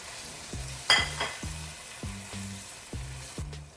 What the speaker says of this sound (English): I have taken the lid out and I just given it a good mix.